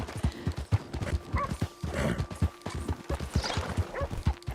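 A horse in Red Dead Redemption 2 trots with quick, rhythmic hoofbeats that stay close and loud throughout, with a faint tonal hum running underneath.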